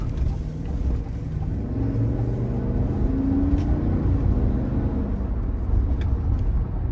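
A 2021 Cadillac Escalade Sport accelerates hard, its engine a low, steady rumble that builds gradually from inside the cabin, with one brief spoken word near the start.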